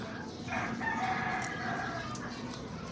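A rooster gives a clear crow from fairly close by, while faint voices and a general outdoor murmur of birds in a gamefowl yard sit underneath.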